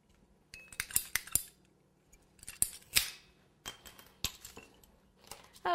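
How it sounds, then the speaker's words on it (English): PVC pipe cutters cut wooden cake dowels, giving sharp close clicks and snaps with brief ratcheting squeezes, scattered irregularly over a quiet background. "I use PVC pipe cutters to cut these dowels"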